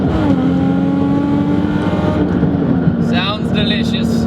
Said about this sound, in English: So the exhaust on this is Z1 test pipes and Z1 exhaust.